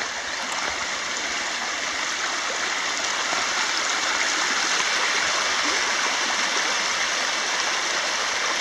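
Flooded Smith's Creek rushing over rocks: a loud, steady, broadband roar of running water, close and continuous throughout without talk.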